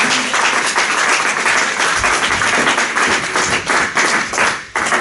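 A church congregation applauds loudly and continuously for several seconds, dense clapping close by that thins out briefly near the end.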